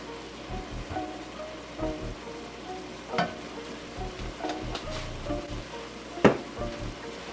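Minced garlic drops into a hot pan of lasagna filling, setting off a low, steady sizzle broken by scattered clicks and scrapes of stirring, with one sharper clatter near the end.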